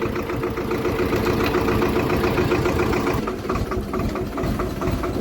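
A tractor engine idles steadily while a load is tipped off, a close, loud, even chugging with a low knock that barely changes throughout.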